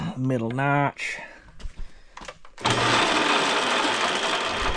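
A voice speaks briefly, then an old metal lathe starts cutting a coarse 12-pitch thread on a cart axle, giving a loud, steady, dense whirring roar that fills the rest of the clip.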